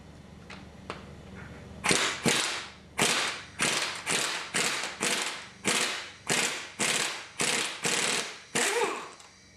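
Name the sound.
impact gun loosening a bolt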